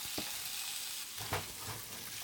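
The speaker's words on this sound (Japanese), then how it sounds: "フライパンにオリーブオイルをひいて、そこに先ほど刻んだニンニクを入れて、弱火でニンニクの色が変わるぐらいまで炒めていきます" Garlic and onion cooking in olive oil in a frying pan over low heat, a steady soft sizzle throughout with a couple of brief stirring scrapes.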